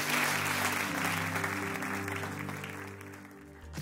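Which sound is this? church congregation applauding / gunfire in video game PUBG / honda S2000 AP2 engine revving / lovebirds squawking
church congregation applauding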